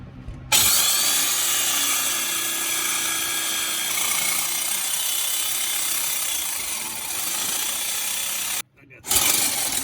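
A sawzall or grinder cuts through the old exhaust pipe on a 1968 Chevelle during a dual exhaust install, a loud continuous harsh buzz close by for about eight seconds before it cuts off abruptly and briefly restarts.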